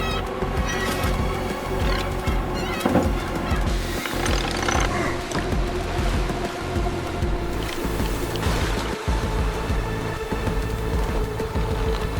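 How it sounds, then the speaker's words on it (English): A deep-sea crab fishing ship pushes through rough water, with a steady low engine drone, rushing waves and scattered knocks and clanks on deck, loud and continuous. "the ship shuddered, cutting through the waves and surging forward"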